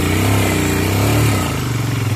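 A motorcycle engine runs steadily close by on a mountain road in Sikkim, a low throbbing rumble that briefly rises in pitch before settling back down.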